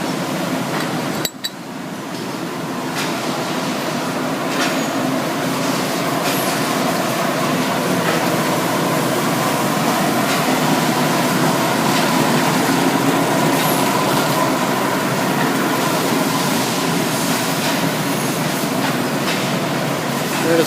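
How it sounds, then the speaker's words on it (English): Massive fans cooling freshly fired tiles in a mosaic tile factory in China, a loud, steady broadband roar with faint rattling and clinking of machinery underneath, running unbroken throughout. "Massive fans here cooling it down, and then it comes out the other end."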